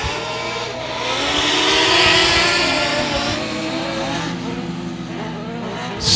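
Race cars in a heat race at 281 Speedway roar past together, a loud, continuous engine drone swelling near the middle of the pass, then holding steady with layered revving from several cars.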